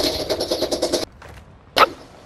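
Rapid automatic gunfire in the shooter Call of Duty: Modern Warfare II, a dense burst of about a second followed by a short pause and one sharp closing shot, loud and close with no talk over it.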